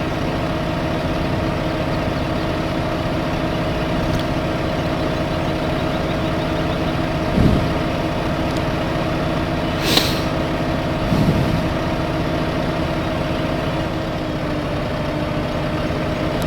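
A tractor engine idles in Farming Simulator 2015, a steady, close, low diesel drone with a few brief bumps and clanks partway through and no talking.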